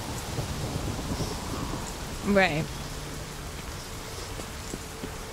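Rain falling steadily in the video game The Witcher 3, a soft constant hiss with a brief tonal game sound partway through and a person speaking briefly over it.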